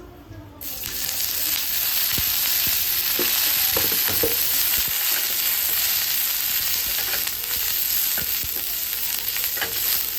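Green chilies and garlic for thecha fry in a little oil on a griddle, giving a loud, continuous close-up sizzle with occasional stirring clicks.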